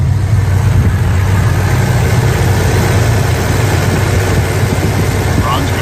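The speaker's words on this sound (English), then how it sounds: "Let's take a listen to the engine." Idling engine of a classic muscle car, a steady low rumble held loud and constant throughout with no talk over it.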